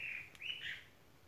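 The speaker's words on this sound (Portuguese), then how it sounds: "É a sabiá do campo." A chalk-browed mockingbird (sabiá-do-campo) sings outdoors in the countryside, giving two short, clear whistled phrases that sound faint and somewhat distant against a quiet background.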